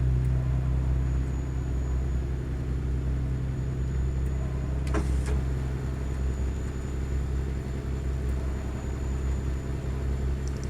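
A Detroit Diesel DD60 truck engine drones from inside the cab in a truck simulator game mod, a steady low rumble at constant revs with a faint cabin hum and one brief click midway, no talking.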